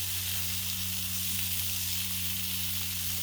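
Thick pork chops sizzle steadily on a hot Blackstone griddle, a constant dense crackling hiss heard up close under a low background hum, with no talking.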